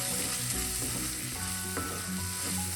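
Spice powders frying in hot oil for a mushroom roast, a steady close sizzle with occasional soft stirring scrapes, continuous and fairly loud with no talking.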